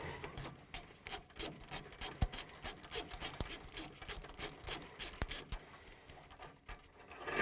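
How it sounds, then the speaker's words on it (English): Wrench work on a 22mm bolt of a Väderstad Tempo seed unit: a steady run of close, sharp metallic clicks and rasps, like a ratchet turning in short repeated strokes, with no talking. "Here you need a 22mm nut to loose this bolt."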